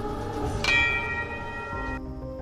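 A bell rings in a film scene, one clear struck tone that sounds near and rings on for a moment before it fades, heard alone over a low background with no speech.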